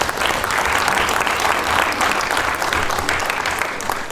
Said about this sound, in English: Can we just give it a round of applause?